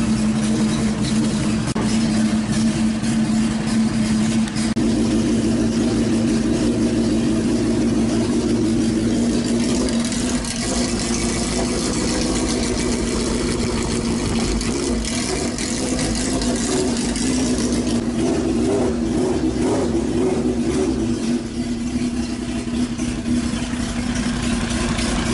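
Radical race car engine idling steadily after starting, a loud, continuous low drone with slight fluctuations in pitch and roughness over about twenty-five seconds, no speech.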